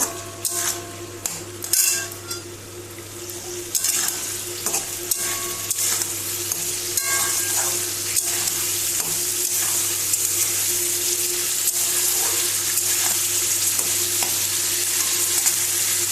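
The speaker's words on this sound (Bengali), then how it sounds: "ঢাকনা চাপা দিয়ে দিয়ে সবজিগুলো আমি ভাজছি" Cauliflower stalks and vegetables sizzle steadily in a covered pan, a constant frying hiss punctuated by occasional stirring clinks and pot knocks, with no talking.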